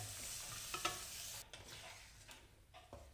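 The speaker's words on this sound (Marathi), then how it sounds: "आता हा गूळ चांगला वितळेपर्यंत आपण हे परतून घेऊया" Jaggery and coconut mixture is stirred in a pan, a faint, soft sizzle under several quiet scraping strokes.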